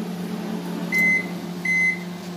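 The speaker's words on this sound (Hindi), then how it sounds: "जब ये प्री हीट हो जाएगा तो ये आपको बीप देना स्टार्ट कर देगा।" An IFB convection microwave oven sounds two clear, sustained electronic beeps after finishing its preheat, each about a third of a second long, over a steady low appliance hum.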